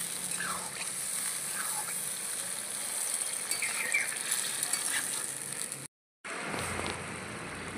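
Fresh fig (dumur) curry, cooked in a meat-style masala, sizzles steadily in a pan after a little water is added, with scraping stir sounds; the noise cuts out briefly near the end, then resumes.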